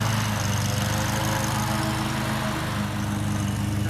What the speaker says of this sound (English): she wanted to mow the lawn today